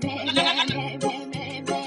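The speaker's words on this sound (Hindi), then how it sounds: "और उस गाँव में है एक बकरी" Goat bleating within an animated children's farm rhyme sung in Urdu, repeated bleat-like cries over a musical backing with sung vocals.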